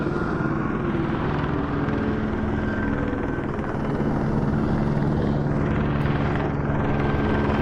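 A helicopter in the VR game Vertigo 2 drones with a loud, steady rotor thrum and engine whine, holding close and constant with a slowly shifting pitch throughout.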